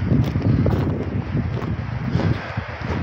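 Strong, steady wind blows outdoors on a late-November day, a loud continuous rushing roar with gusty buffeting on the microphone throughout, and no voices.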